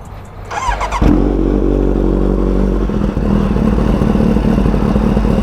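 A Kawasaki Ninja H2 motorcycle engine with a new exhaust fires up and settles into a loud, steady rumbling idle with slight revving, close by.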